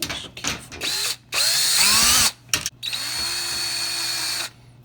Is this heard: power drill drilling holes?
yes